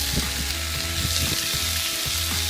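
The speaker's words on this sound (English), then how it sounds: "We're going to let this steak cook for about 2 minutes, 1 minute either side." Strips of flank steak, cut about a quarter inch thick, sizzle steadily and loudly in a hot cast iron pan, with a few soft clinks and shuffles from the pan as the fry continues without pause.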